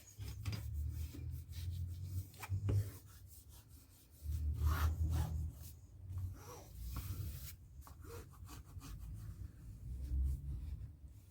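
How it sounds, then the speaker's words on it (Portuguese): Hands press and rub glued fabric onto a vaccination booklet cover, giving a continuous close-up scrubbing and rubbing sound with uneven low swells and small crackles, with no talking. "Agora eu vou apertando bem para não ficar nenhuma parte sem colar."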